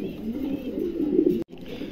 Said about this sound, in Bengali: দুটো কবুতরই দেখার মতন, অনেক বিগ সাইজের কবুতর